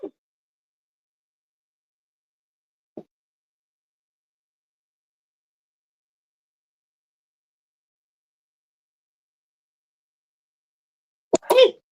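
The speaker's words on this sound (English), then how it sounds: "I gotta sneeze" A person sneezes once, suddenly and close by, at the very end of an otherwise near-silent stretch in a home kitchen where black-eyed peas are being cooked, with only a couple of tiny faint knocks before it.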